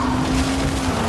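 A vehicle skids under the handbrake in Dying Light, a continuous tire squeal with a sustained tonal whine over a rumbling engine, loud and close, with no talking.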